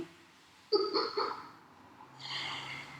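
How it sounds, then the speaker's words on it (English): A man doing a guided everyday stretching routine takes a slow, deliberate breath in through his nose, a soft close sniffing inhale followed by quieter airy breathing, with no talk over it. "he's actually consciously taking a breath in through his nose"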